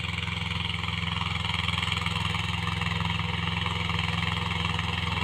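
A Mahindra Jivo 245 DI tractor, fitted for rotavator work, runs steadily at close range with a low, even diesel throb and a constant drone throughout, with no voices.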